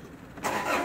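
A homemade loader's engine fires up partway through, a sudden broadband burst after a quiet moment, then holds at a steady running roar.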